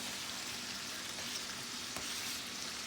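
Onions frying in a pan after lamb loin chops have been cooked, a dense steady sizzle with faint stirring scrapes, close and continuous, with no voices.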